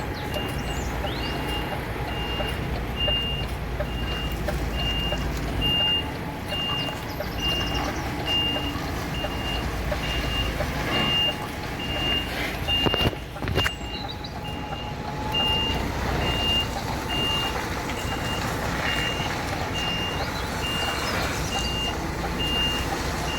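A truck backs up a slope, its reversing alarm beeping in a steady, evenly spaced rhythm throughout, over a rumbling diesel engine idle with a louder thump midway.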